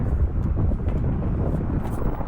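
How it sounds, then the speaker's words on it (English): Gusty wind buffets a microphone outdoors at an RC warbird flying field, a loud, low rumbling roar that stays constant and close with no other clear sounds. "It's windy today."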